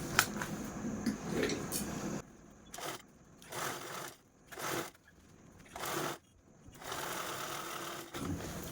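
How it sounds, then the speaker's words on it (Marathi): A sewing machine stitches a zip onto a cloth purse in several bursts of fast, steady whirring, each one stopping for a moment before running again. "ही झीप आहे ती स्टिच करून घेऊया"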